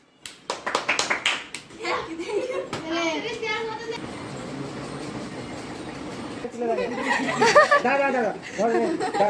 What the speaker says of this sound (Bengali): তবে হাততালি দিয়ে